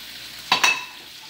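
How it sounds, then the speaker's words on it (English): Chicken with red and green peppers sautéing in a pot for Polynesian sweet and sour pineapple chicken: a faint sizzle broken by two quick metallic clinks of a utensil against the pot, close and without speech. "I'm going to saute the pepper at the same time that I'm sauteing the chicken"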